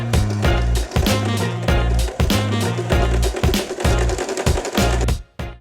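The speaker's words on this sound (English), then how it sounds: "Now we're going to sew straight." A sewing machine runs a straight seam on a dress shirt in rapid loud bursts of stitching, pausing briefly between runs before stopping at the end.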